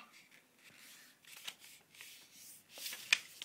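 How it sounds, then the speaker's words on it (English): Paper for an origami flower is folded and creased close by, producing soft, irregular rustles and crinkles with a sharper crisp snap near the end, quiet and with no talking. "So you're going to take this corner and fold it into the middle."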